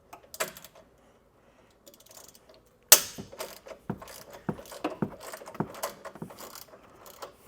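A hand ratchet clicks in quick irregular bursts while undoing an external Torx number 12 bolt on a Ferrari Roma exhaust, with a sharp metallic clank partway through, close and fairly quiet.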